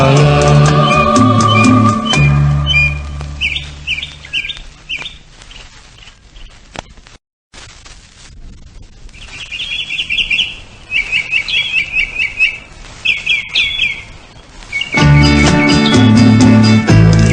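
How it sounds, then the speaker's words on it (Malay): Clear bursts of bird chirping and whistling song repeat in quick phrases, loud and close, set between passages of music. "Dengarlah burung berkicau bersiul menyanyi pada dahan berpasangan sambil saling"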